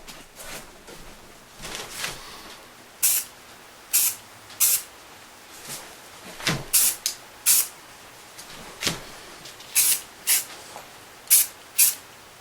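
Short bursts of spray paint hiss in a second light coat on an old Tootsietoys die-cast toy, about a dozen separate sprays in an irregular rhythm with quiet gaps between them, close and fairly soft.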